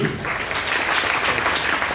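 Audience at a Tamil debate (pattimandram) event bursts into steady, dense applause, loud and close, filling the whole moment with continuous clapping and no talk over it.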